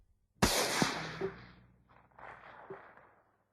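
A single sharp gunshot cracks out loud and close, followed by a decaying echo and a few fainter clattering knocks as the reverberation fades out over about three seconds.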